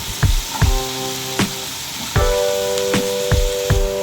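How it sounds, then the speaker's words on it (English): Tomatoes and vegetables stir frying in a pan, a steady close sizzle broken by several sharp clinks and scrapes of a utensil against the pan. "add your tomatoes and also stir fry it to combine together"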